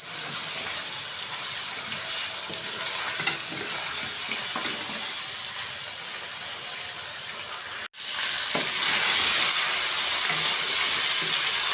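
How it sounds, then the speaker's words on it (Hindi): Chicken karahi with green chillies and crushed black pepper sizzles loudly and steadily in the pan, cutting out for a split second and then returning stronger and brighter. No talking. "काली मिर्च डालेंगे क्रश 1 टीस्पून भर के और अब हम इसको मज़ीद भूनेंगे"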